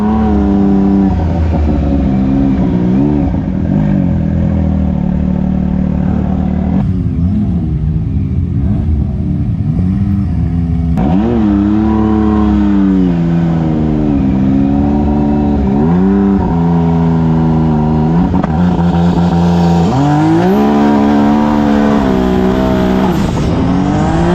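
A side-by-side's engine revs hard and loud during a clutch RPM test at a raceday, rising and falling in long sustained pulls with a steady rumbling drone close by.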